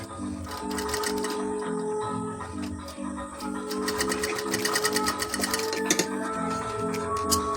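A sewing machine runs top stitching on an umbrella frock, giving close, rhythmic bursts of fast mechanical stitching with brief pauses between runs.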